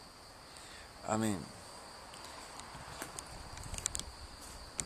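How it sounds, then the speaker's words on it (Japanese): Night insects sing a faint, steady, high chirring drone in a quiet outdoor setting in early September, with a few soft clicks, and one short spoken word near the start. "セミの代わりになんかこう虫の音が聞こえます。"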